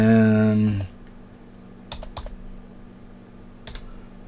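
Typing on a computer keyboard to rename a layer in On1 photo software: after a loud tone fades out, a few faint, close clusters of key clicks arrive sparsely with pauses between them.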